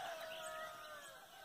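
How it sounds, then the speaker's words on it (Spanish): A rooster crows faintly in the distance at dawn in the mountains, one drawn-out call over a quiet outdoor background. "con los gallos cantando"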